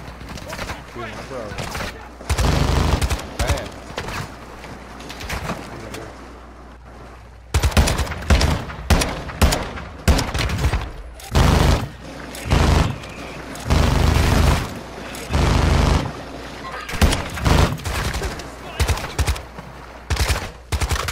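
A minigun in the shooter game Atomgrad fires in loud, sustained rattling bursts lasting one to two seconds each, separated by short pauses, with voices talking in the gaps.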